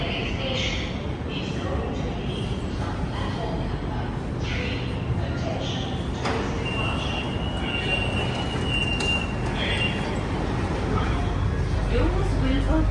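Inside a Delhi Metro express line train heading toward New Delhi, a steady rolling rumble with faint high whines fills the ride while people talk over it.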